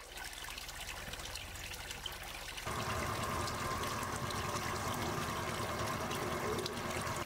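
Water from the Česma spring trickles and splashes, soft at first and then a fuller, steady flow that continues alone at a moderate distance.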